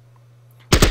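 Rapid bursts of machine-gun fire in the Battle Academy war strategy game start suddenly after near silence, loud and close, with several quick shots in the last third of a second.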